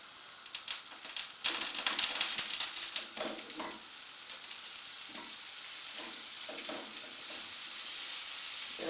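Rabbit pieces hit a hot, shimmering pan on medium heat and sizzle loudly at first, then settle into a steady crackling fry with occasional spits and pops.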